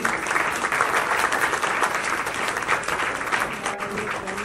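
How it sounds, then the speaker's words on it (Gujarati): An audience at an 80th birthday celebration applauds loudly and steadily, a dense wash of clapping hands lasting several seconds. "જોરદાર તાળી પ્લીઝ"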